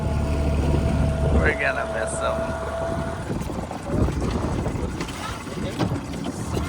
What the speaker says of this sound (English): last dinghy ride